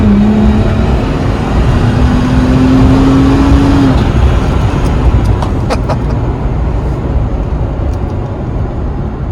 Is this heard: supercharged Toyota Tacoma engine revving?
yes